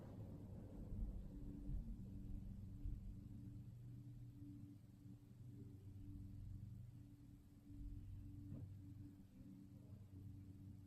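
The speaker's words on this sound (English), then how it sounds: "these metal blades keep the motor spinning for quite a while" A 1970s Electrohome 652-1 20-inch box fan with metal blades spinning down, its motor giving a steady low hum and rumble that holds fairly even throughout, with no one talking.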